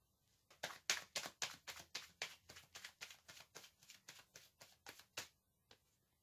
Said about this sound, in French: Je vais tirer une autre carte pour voir quel est votre bienfait.